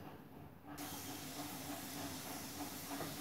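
A pot of vegetable curry simmers steadily, giving a continuous close hiss of steam and bubbling that starts abruptly and holds at an even level with no voices.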